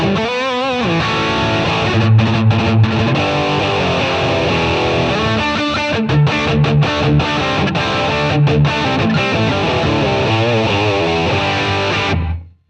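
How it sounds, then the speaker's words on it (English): A distorted guitar plays through the Reflections reverb of a Strymon BigSky pedal, chords ringing densely in a simulated room for several seconds before the sound cuts off sharply at the end. "the reflections reverb precisely calculates 250 reflections based on the source position within the chosen room shape"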